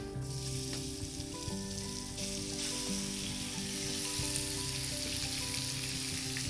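Ground beef fries in hot oil in a Dutch oven set over an open fire, a dense steady sizzle with crackling spatters throughout, close and alone without any voices.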